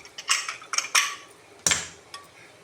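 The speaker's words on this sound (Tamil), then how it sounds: "இப்போ மூடியை போட்டு மூடிடலாம்" Pressure cooker lid set down and clamped shut in a home kitchen, a burst of sharp metallic clanks and clinks, a louder clack midway, then a faint tap, close and alone.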